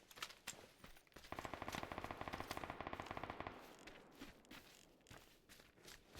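Rapid automatic gunfire from the Taego map in first-person PUBG ranked play: one sustained burst of about two seconds, loud and close, framed by softer footsteps and scattered shots.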